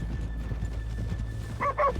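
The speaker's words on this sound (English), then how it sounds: "let's leave the horses here off the main drag" Hooves clop steadily over a low rumble of background noise in Red Dead Redemption, followed by a short, bright horse whinny near the end.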